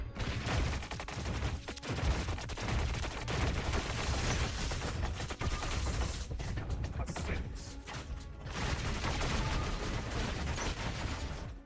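Robot weapons blaze away in a War Robots battle, a dense, unbroken barrage of rapid gunfire and heavy impacts that stays loud throughout, with only brief dips in the din.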